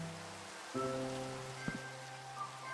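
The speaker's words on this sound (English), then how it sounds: "Of course, just as I say that, it starts to rain." Rain falling in the Minecraft video game, a steady soft patter running through the whole stretch alongside sustained tonal game sounds, with no voices.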